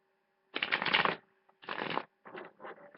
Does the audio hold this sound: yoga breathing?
no